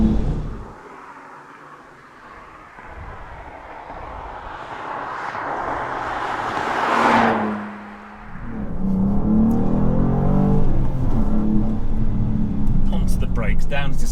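A BMW M2 G87 accelerates hard along a fast, flowing German country road, its engine note rising through a gear then dropping and pulling again, with someone talking over the continuous drive.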